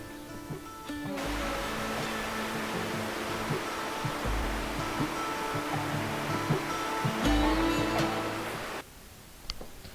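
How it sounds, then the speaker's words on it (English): A waterfall in Glencoe in the Scottish Highlands gives a steady, full rush of falling water that holds for most of the stretch, then drops away abruptly near the end. "here is that waterfall"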